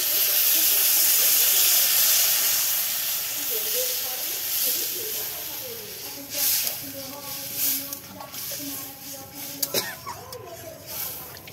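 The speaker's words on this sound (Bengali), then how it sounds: "এবার আমি জল দিয়ে দিচ্ছি।" Water splashes into a pan of sautéed taro-leaf curry, giving a loud steaming hiss that fades into bubbling sizzle, with a voice speaking over the later part.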